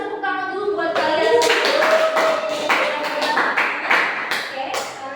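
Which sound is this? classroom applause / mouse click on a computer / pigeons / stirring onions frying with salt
classroom applause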